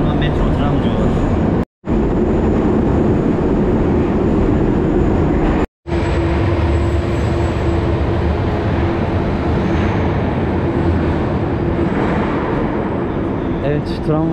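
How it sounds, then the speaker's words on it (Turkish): Metro tram running underground through a tunnel in Volgograd, a loud continuous rumble and roar with a steady whine, close and sustained, briefly cut out twice, with a voice talking over it. "Tren şimdi bakın yer altına girdi ve bir metro oldu."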